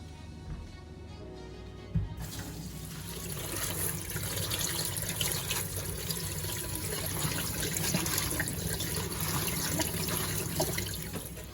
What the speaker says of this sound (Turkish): Şimdi soğanımızın acısı çıkması için şöyle bir suyun altında yıkayacağız.